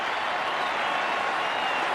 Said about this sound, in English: rise to their feet and cheer one of the greatest batsmen of all time